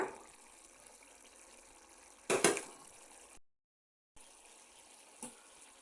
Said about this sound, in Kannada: ಹಾಲು ಆ್ಯಡ್ ಮಾಡ್ತಾಯಿದ್ದೀನಿ